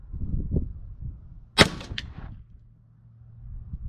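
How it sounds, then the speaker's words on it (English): An air gun fires a single sharp crack while being sighted in, with a short follow-up click just after, heard close and alone against a quiet background with low rumble before and after. "I'm gonna have to try and hold the magazine in while I shoot, that way it cycles."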